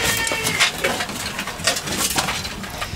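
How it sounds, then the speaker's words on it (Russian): Inside a chicken coop, birds scratch and scrape across a metal surface. The result is a dense, irregular patter of close, scratchy clicks and rustles that continues throughout. "это шорох птиц по какой-то металлической поверхности"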